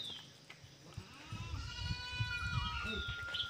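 A goat bleats loudly in a rural village, a long wavering cry followed by further bleats and animal movement nearby, with no speech over it.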